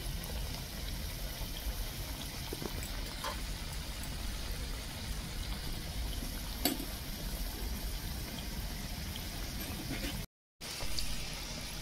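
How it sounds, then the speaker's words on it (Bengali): Lobongo latika sweets frying in oil, a soft, even bubbling hiss that carries on throughout with a few faint clicks, plus a brief dropout near the end, no voices. "দেখুন প্রায় ভাজা হয়ে আসছে।"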